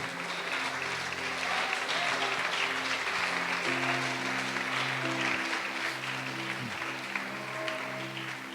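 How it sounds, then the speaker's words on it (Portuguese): Church congregation applauding during a service, sustained mass clapping over soft held organ or keyboard chords, steady and fairly loud, fading slightly at the end. "Quem pode aplaudir o Senhor Jesus por isso?"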